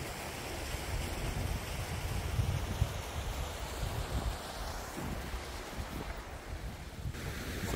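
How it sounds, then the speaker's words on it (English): Steady wind roars and buffets the microphone at a campsite in the Yorkshire Dales, a continuous rushing noise with low rumbling gusts. "It's a bit cold and windy"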